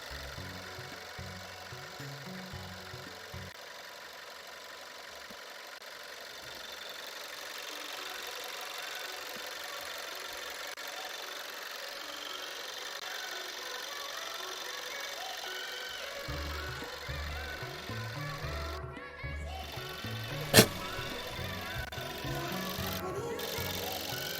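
A steady engine drones continuously with a rough, knocking mechanical rumble, growing a little fuller toward the end, with a brief sharp click near the close.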